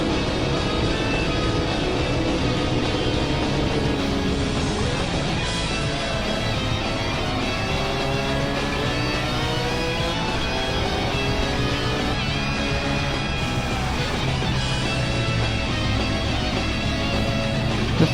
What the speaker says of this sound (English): Oh, listen to that engine.